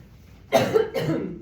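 Two quick, close coughs from a woman, a pair of harsh bursts in a quiet indoor room.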